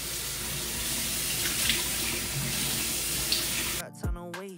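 Running tap water streams steadily into a sink while a spin brush is rinsed under it, a continuous wash that cuts off near the end, leaving a few soft, brief sounds.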